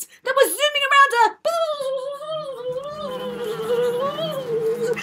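A storyteller's voice imitates buzzing bees and wasps in a theatre performance, a wavering, humming drone that rises and falls continuously for several seconds, loud and close, following a short spoken phrase at the start.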